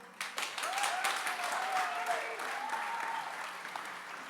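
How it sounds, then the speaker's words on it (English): Audience applause for performers at the close of a school English honor society poetry and art festival, steady clapping from a sizable crowd with a couple of faint whistles, sustained for several seconds. "Give another round of applause for our performers"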